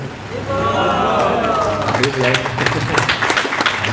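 Devotees at an ISKCON gathering clap their hands, a run of quick rhythmic claps rising out of chanting voices and crowd babble partway through.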